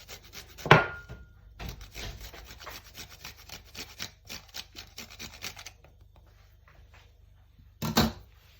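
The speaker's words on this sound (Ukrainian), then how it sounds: "Я ще хочу трошки натерти імбиря." Repeated scraping strokes as ginger is rasped against a grater in a quick steady rhythm, close up, with a couple of sharper knocks at the start and end.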